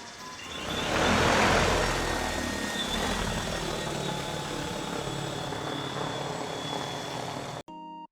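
A DJI Agras T70P agricultural drone flying over a long-abandoned field being turned into an adzuki bean plot, a steady loud rotor roar that swells early and holds, then cuts off abruptly near the end.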